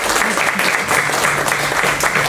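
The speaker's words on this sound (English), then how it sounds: "so a big round of applause for all of you." An audience gives steady, dense applause at the close of a performance, a continuous wash of many hands clapping without pause.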